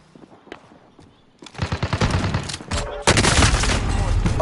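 Video game gunfire erupts in loud, sustained automatic bursts, starting faintly and swelling into dense continuous shooting that fills the second half, with a voice briefly heard under the barrage.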